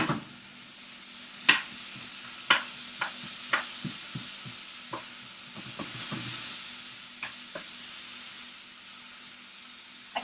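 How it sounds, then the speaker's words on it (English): A spoon scrapes and taps through onion in a frying pan over a steady low sizzle, with a series of sharp clinks at irregular intervals, close and clear without talk. "what I have my spoon for is breaking up the onion and mixing it up"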